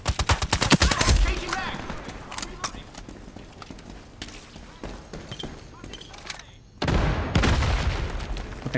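Rapid bursts of VSS rifle fire in the shooter game Ironsight, a dense crackling volley at the start, then scattered shots under ambient game noise and a louder burst near the end, with a player talking over it.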